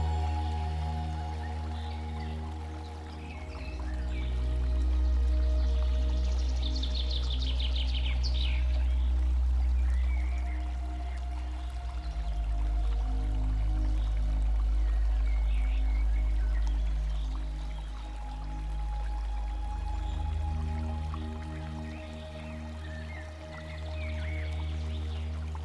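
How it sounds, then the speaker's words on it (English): Water pours and rushes in a steady, moderately quiet wash at Huangguoshu waterfall, a continuous broadband flow with faint bird calls over it. "the thunderous sound of water echoes through the valleys"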